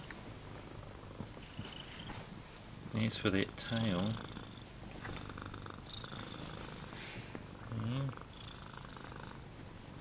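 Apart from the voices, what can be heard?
cat purring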